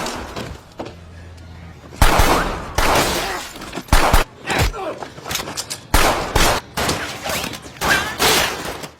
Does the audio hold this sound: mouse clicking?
no